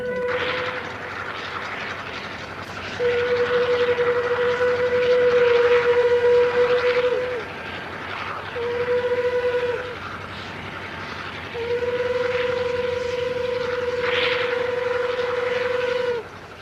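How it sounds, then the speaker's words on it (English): Rotary snow plow train digging through deep snow on a railway line and throwing it clear, heard as a loud continuous rumbling roar with long steady horn-like tones sounding in three extended blasts, with no talk. "Management calls for its ultimate snow fighting machine, rotary plows that can dig through almost any accumulation of snow."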